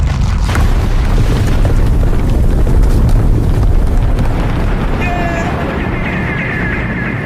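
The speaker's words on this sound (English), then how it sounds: "The Illuminati's secret headquarters is gonna blow! Fire in the hole!" A secret headquarters explodes in a loud, sustained roaring boom that rumbles continuously with a wind-like rush for several seconds, with brief tonal whistles near the end.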